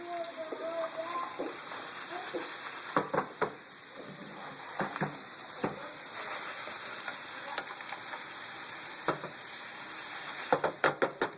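Quiet crackling sizzle of potatoes and broccoli frying in a pan, with occasional sharp clicks and scrapes of stirring, and faint voice sounds early on.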